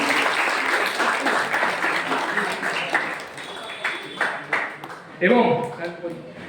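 Audience applauding loudly after a stage play, dense sustained clapping that thins into scattered claps as a voice begins speaking over it near the end.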